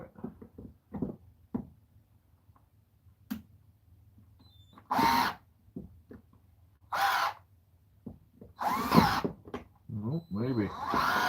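A power drill bores into a Volvo 244 brake caliper in several short, loud whirring bursts separated by quiet pauses, with scattered clicks and some speech in between.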